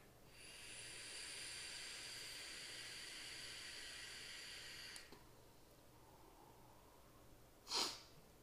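A long steady exhale of vapor from an HCigar DNA 40 vape running at 40 watts, a soft breathy hiss lasting about five seconds, close and quiet, then fading to near silence with a brief sharp puff near the end.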